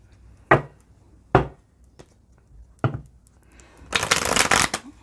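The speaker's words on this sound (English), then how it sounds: "I'm trying to shuffle here." Several sharp riffling bursts of cards being shuffled close by, spaced apart, ending with a longer, rapid flutter of a bridge shuffle.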